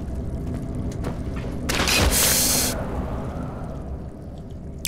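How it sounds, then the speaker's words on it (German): A loud explosion in Amnesia: The Dark Descent with a bright, broadband roar swells for about a second, then fades back into a steady low rumble of game ambience. "Hier, das explodiert wieder"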